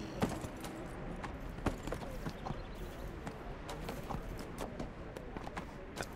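A horse ridden in the video game Neverwinter, its hooves clip-clopping in a steady, quick rhythm under a busy wash of ambient game noise and music.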